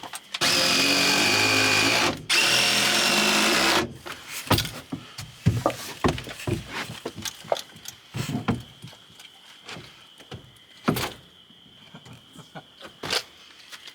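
Four screws go into wood for a farm stand: a power drill runs in two loud, steady bursts close by, followed by scattered knocks, clatter and handling noises, with no talk.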